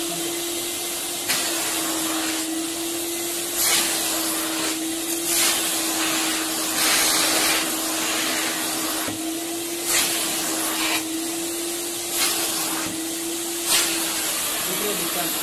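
A vacuum cleaner with a brush attachment runs loudly and steadily at close range. Its constant whine is broken by repeated rhythmic bursts of hiss as the brush moves, and a person talks over it.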